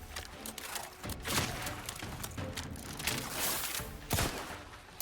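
Gunfire in The Outer Worlds 2, rapid shots and sharp cracks in a steady, fairly quiet game firefight, with a louder burst near the end.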